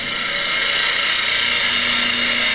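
A turning tool hollowing out a wooden bowl on a lathe, a loud continuous rough scraping hiss with a steady motor hum underneath, close and unbroken.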